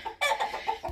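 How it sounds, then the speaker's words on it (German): A rooster on a farm with hens gives a quick series of close clucks in under a second, with no talk over it. "das ist der letzte Hahn"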